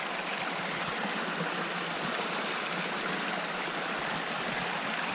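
A forest river flowing steadily, a constant broadband rush of moving water heard close and continuously, with no voices over it.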